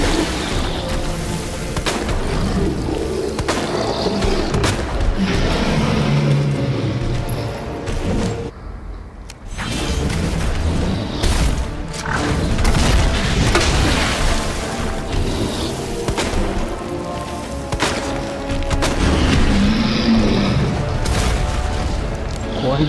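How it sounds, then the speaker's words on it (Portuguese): Grenade explosions in the video game Resident Evil 2 Remake: heavy, loud booms and bursts in dense combat noise, with a brief quiet gap before the blasts resume. "Aqui a granada de aço dela, ela faz ele cair"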